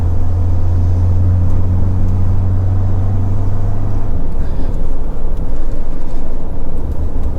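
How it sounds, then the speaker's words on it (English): Ford Ranger PHEV pulling away while towing a caravan, a loud, close low engine and road rumble with a strong steady drone in the first half that smooths into broader driving noise as it gathers speed. "you can definitely feel the difference when there's weight on the back taking off, but I mean it's still doing a decent job of getting up to speed"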